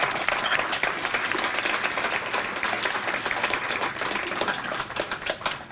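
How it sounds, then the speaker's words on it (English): An audience applauds steadily after a keynote speech by Dr. John Jackson, dense continuous clapping filling the room at an even level. "Can you applaud that again?"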